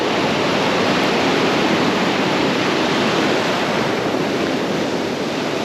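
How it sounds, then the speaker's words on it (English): A surging ocean swell at sea gives a loud, continuous wash of broadband rushing noise, steady throughout with wind buffeting the microphone and no voices. "That swell is just surging today"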